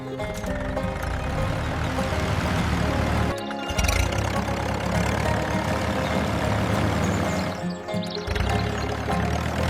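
A small DIY mini tractor engine idles and chugs steadily at a low rumble, continuous throughout with a couple of brief dips.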